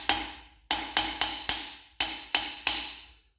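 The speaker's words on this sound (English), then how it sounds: "While I'm hammering out the texture" A hammer strikes recycled metal petals on an anvil to texture them, seven sharp ringing blows in an uneven rhythm, loud and close with no talk.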